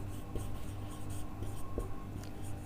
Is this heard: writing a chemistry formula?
yes